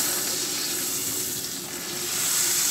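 Butter sizzles as it melts in a frying pan on a gas cooker, giving a steady, close hiss with no pauses and no one talking.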